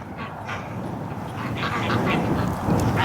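A group of ducks on a winter outing quacks and honks in overlapping, busy calls at moderate distance, growing slightly louder toward the end.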